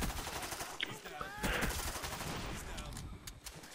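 Scorpion submachine gun firing in Call of Duty: Black Ops, a burst of close, loud automatic shots followed by continuing gunfire texture and game noise.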